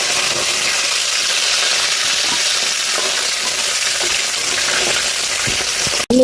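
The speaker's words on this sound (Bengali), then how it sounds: "মাছের মাথাটাকে ভেজে নিয়েছি ভালো করে," Fish head frying in hot oil gives a loud, steady crackling sizzle throughout, with faint stirring clinks, then a brief cut near the end.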